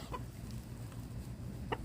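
Backyard chickens cluck softly while being fed fresh grass, a few brief clucks over a low, steady hum, fairly faint and without talk.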